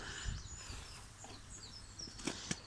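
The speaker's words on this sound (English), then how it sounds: "You can hear the birds." Faint bird chirps and calls sound outdoors at 5am on a grey, windy day, scattered and distant, with a couple of sharper tweets near the end over quiet open-air background.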